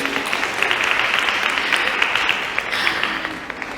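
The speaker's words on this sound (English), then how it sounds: "Round of applause." A room full of people claps in a steady round of applause at a STEM careers event, dense and sustained for several seconds, with no one talking over it.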